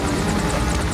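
A helicopter in a film scene roars continuously, loud and close, its rotor and engine noise filling the whole moment with a steady thudding wash and no talk over it.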